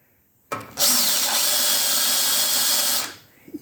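A power drill bores into a broken bolt of hardened steel, a sharp high whine starting abruptly, holding steady for about two and a half seconds at close range, then cutting off and winding down.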